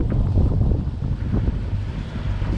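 Strong wind buffeting the microphone aboard a sailboat off Greece, a constant loud low roar with rushing water and waves beneath, no voices.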